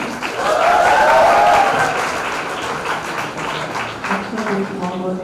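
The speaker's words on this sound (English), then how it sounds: "Can we have a warm round of applause for all the graduates?" Warm applause from a graduation audience honouring O Level graduates at a school ceremony in a hall, a steady crowd clapping that swells early and then holds at a lower level, with voices mixed in beneath it.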